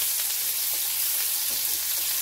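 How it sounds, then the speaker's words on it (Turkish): Onions fry in hot oil in a pan, giving a steady close sizzle that stays loud and even throughout, with no voices. "Şimdi soğanımı kavuracağım. Yağımı tavaya aldım. Yağım iyice kızdı."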